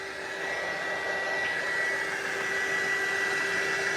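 Steady, loud whooshing roar of a heat tool blowing air to dry paint, with a constant tonal whine running unbroken throughout and no voices.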